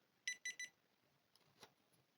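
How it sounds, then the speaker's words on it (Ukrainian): Three quick electronic beeps in a row from an XY W/22A DC power supply module, high-pitched and clear, followed by a fainter short tone and quiet background. "Такий ще звуковий йде сигнал там пікає."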